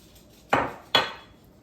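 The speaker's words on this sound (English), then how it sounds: "And you stir it up." A utensil knocks twice against a bowl while melted butter is stirred into powdered sugar, two sharp clattering strikes about half a second apart, each followed by a brief ring.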